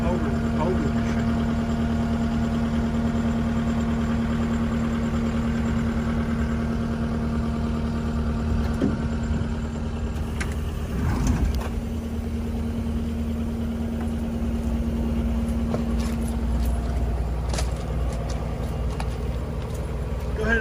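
A 2024 Kubota SVL75-3 compact track loader idles with a steady, loud low diesel rumble that runs the whole time, while people talk faintly over it.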